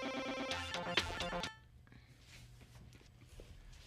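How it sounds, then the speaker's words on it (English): A phone's work-email alert plays a short bright chime of a few quick tones, fairly quiet, then gives way to faint room noise and light movement. "That's the sound it makes when I get a work email."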